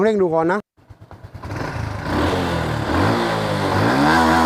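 A Honda Wave 110i motorcycle with a newly replaced throttle position sensor revs up close, its engine pitch rising and falling in repeated throttle blips after a brief voice at the start.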